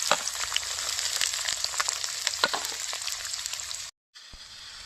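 Dried red chili and whole cumin sizzle in hot oil alongside chopped onion, a dense, steady crackling fry close by that cuts out abruptly for a moment near the end before resuming.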